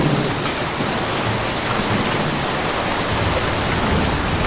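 Heavy rain falls without pause in a movie trailer, a loud, dense hiss with low rumbling thunder underneath, close and continuous, with no voices.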